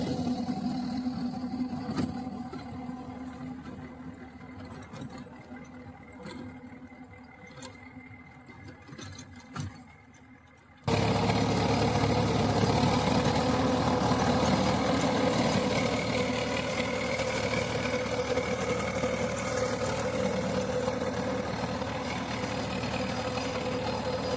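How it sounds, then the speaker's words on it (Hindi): A handle-start tractor engine runs steadily in a field, pulling a rotavator, with a continuous low chugging drone that jumps abruptly louder partway through and stays loud and close to the end. "तो देखिए चौथे किलो में ट्रैक्टर चल रहा है।"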